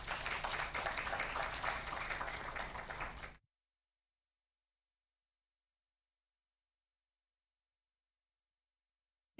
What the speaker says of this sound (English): let's give a big applause to all the speakers.